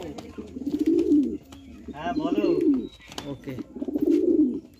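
Giribaz pigeons cooing in soft, repeated low rolling phrases, close by, with a man's brief speech between coos.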